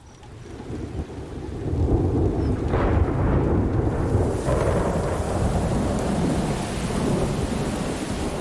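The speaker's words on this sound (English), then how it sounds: "the November rains soak the parched ground" A thunderstorm breaks the dry season as heavy November rain soaks parched ground. Dense, steady rainfall roars close by with deep rumbling thunder rolling underneath. No voices are heard.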